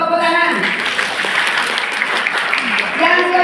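An audience at a pesantren gathering applauds a young speaker introduced on stage, a steady wash of many hands clapping that runs throughout, with a voice talking over it.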